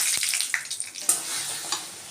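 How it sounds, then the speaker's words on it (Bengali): Whole spices, cardamom, cloves, dried red chillies and garam masala, sizzle and crackle steadily in a pan of ghee and white oil after paneer was fried, with a few sharp pops. "ঘি আর সাদা তেল দিয়ে পনিরটা ভেজে নিলাম ফোড়ন দিচ্ছি গোটা গরম মরিচ গরম মশলার এলাচ আর লবঙ্গ আর শুকনো লঙ্কা"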